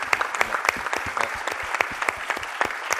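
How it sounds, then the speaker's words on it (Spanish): Applause from a seated audience at the close of a mastering panel at a music event, dense rapid clapping that stays steady and fairly loud for the whole stretch, with no voices over it. "así que se merecen un aplauso enorme."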